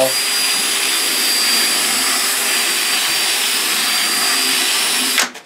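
Small power tool smoothing burrs off the inside of a tube, a loud, steady high-pitched whine with a faint tonal edge running close for about five seconds before cutting off abruptly.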